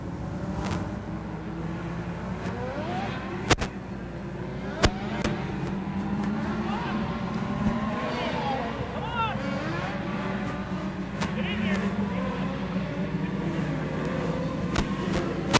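Late model race cars circle a dirt oval at Springfield Raceway during a Turkey Bowl event, a steady distant engine drone with occasional sharp clicks and a few faint tonal sweeps throughout.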